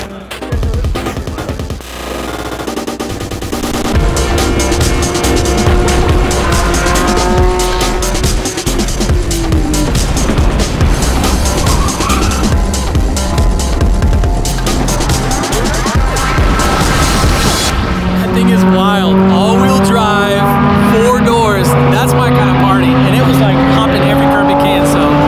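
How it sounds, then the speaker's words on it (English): Tuned Audi RS5 running a stage one tune, driven fast on a race track, heard from inside with a loud, sustained engine drone that rises and falls through gear changes, tires squealing at times, and voices talking over it. "I'm about to ride in their rowdy Audi RS5."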